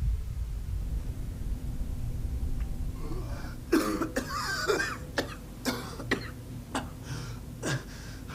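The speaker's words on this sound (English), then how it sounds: "Gasping, coughing." Several sharp, raspy coughs and gasps in quick succession from a Fallout 4 character over a low steady hum, close and moderately loud.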